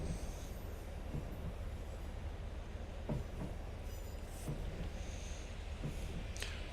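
A Class 156 diesel train on the West Highland Line rumbles past at a distance, faint and continuous, with a few scattered clicks and brief squeals from the wheels.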